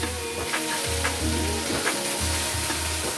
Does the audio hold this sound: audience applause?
no